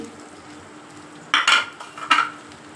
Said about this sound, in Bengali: এবার আমি তেলটাকে একটু নাড়িয়ে দিই।